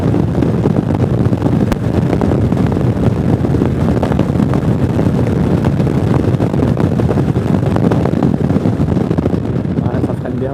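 A Zontes 368G motorcycle ridden flat out on the road, heavy rushing wind buffeting the microphone loudly and continuously over a droning engine.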